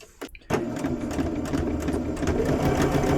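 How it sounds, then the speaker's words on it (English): After a few soft handling knocks, a sewing machine starts abruptly and runs loud and close, stitching a seam on a quilt block with a steady rapid mechanical whir. "And you just sew your line"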